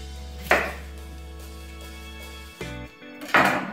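A knife chops through a white onion on a cutting board with a couple of sharp, close knocks spaced a few seconds apart, over a low steady hum.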